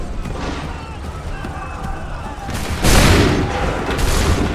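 Troops fire a musket volley in the video game Assassin's Creed 3, a sudden loud crackling burst of many shots over battlefield ambience, with voices heard before it.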